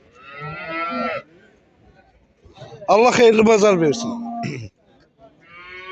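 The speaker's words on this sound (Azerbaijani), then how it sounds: "Bax belə bir inəyi var" A cow moos loudly and nearby at a livestock market in Ganja, giving several drawn-out, tonal calls that alternate with someone speaking between them.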